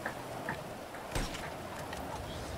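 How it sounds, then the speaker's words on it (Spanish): Steady rain pattering in the open-world game GTA V, a continuous hiss of drops with a brief sharper tap in the middle, fairly quiet and with no talking. "Ah, esta pinche lluvia, yo sin suéter"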